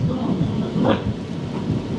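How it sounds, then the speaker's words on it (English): Steady outdoor rain in UK weather with a low, rumbling wash that may include distant thunder, continuous and fairly loud throughout without any voices. "So I'm giving you some UK weather. Rain."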